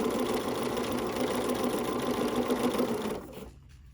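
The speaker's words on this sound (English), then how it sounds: "I'm lowering my presser foot. Doing a little stitchy stitch." A sewing machine stitches a quilt block in a steady, continuous mechanical whir, close and fairly loud, stopping abruptly near the end with only faint room noise after.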